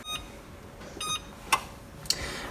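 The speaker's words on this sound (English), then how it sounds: "I'm going to set my timer for an hour." A kitchen timer is set while lasagna goes into the oven, giving a series of short, fairly quiet electronic beeps spaced about half a second apart.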